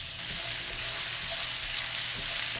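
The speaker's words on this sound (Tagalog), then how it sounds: "Maggisa tayo ng bawang dito." Garlic sautés in a pan, giving a steady, close, dense sizzle that holds evenly for a few seconds.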